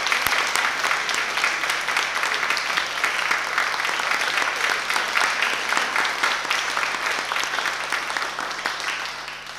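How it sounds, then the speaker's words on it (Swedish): A large audience claps warmly and steadily at a themed church service during Almedalen 2013, a dense, sustained applause that holds for the whole stretch and tapers slightly at the end. "varm applåd"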